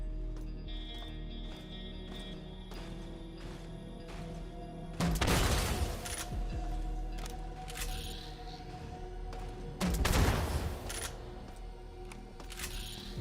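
Two frag grenade explosions in the System Shock remake, each a sudden loud burst with a crackling, rumbling tail, about five seconds apart over a quiet humming background with faint clicks.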